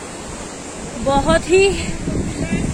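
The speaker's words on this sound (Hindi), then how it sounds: "इतनी खतरनाक गंगा नदी बह रही है चारों तरफ" The Ganges rushes fast beneath the Ram Jhula bridge as a steady, broad roar of water that runs under someone speaking close by.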